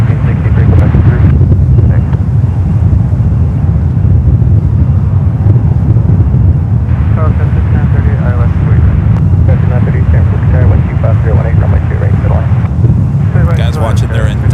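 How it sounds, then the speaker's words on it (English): Steady wind roars and buffets a microphone in a continuous low rumble at San Francisco International Airport, with faint voices speaking underneath at times. "certainly windy here today"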